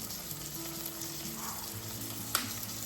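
Garlic sizzles quietly in a pan for a quick eggplant parm, a faint continuous frying hiss with one brief sharp clink near the end and no speech.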